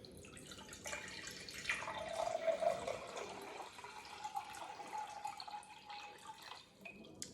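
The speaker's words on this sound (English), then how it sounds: "I'm gonna pour this 2 cups of liquid into it" About two cups of liquid poured into a container in a volume experiment, a faint, steady trickling and splashing that runs for several seconds with no talk.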